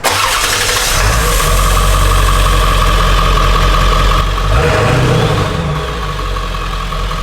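A Ford Power Stroke diesel truck with its exhaust cut off, the engine idling loud and close with a deep, steady rumble that briefly swells as the revs lift, then settles back.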